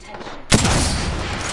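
Gunfire in the Sentinel gameplay of a shooter video game erupts as a sudden loud burst after a quieter start, then holds as a dense, sustained roar of shots with a voice faintly underneath.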